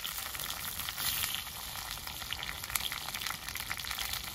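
Potatoes frying in hot oil make a continuous crackling sizzle, close and fairly loud, with small pops and spits scattered through.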